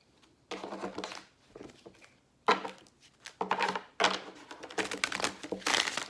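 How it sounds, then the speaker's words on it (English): Tarot cards shuffled by hand, heard as several close bursts of crisp riffling and flapping separated by brief pauses, with no talk. "So I'm just going to do some shuffling here for a second, although I have pre-shuffled the cards."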